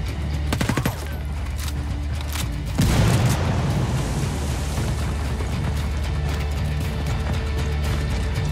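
A frag grenade explodes in a combat video game: a sudden loud blast followed by a long rumbling, crackling tail under steady background battle noise, with a burst of rapid gunfire shots just before.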